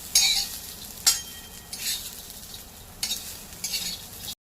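Roasted peanuts stirred and warmed in a hot pan while cooking a Maharashtrian ridge gourd peel chutney: intermittent scraping strokes with soft crackle between them, close and fairly quiet, no talking.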